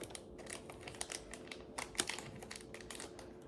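Quiet, irregular crinkling of a plastic bag, a run of soft crackles and rustles with a few sharper snaps, up close.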